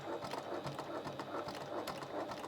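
A sewing machine stitches a seam through layered fabric for a bag body, a steady mechanical whirring that runs continuously at moderate volume with no voices.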